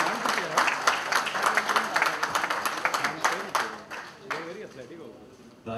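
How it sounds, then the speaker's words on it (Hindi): An audience at a live comedy show breaks into loud, dense applause that thins into scattered claps and fades toward the end, with voices mixed in. "तालियां रुकना नहीं चाहिए."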